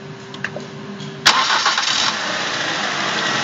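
A Ford car engine cranks and catches after its timing has been reassembled, then settles into a steady, loud idle close by, following a brief clatter.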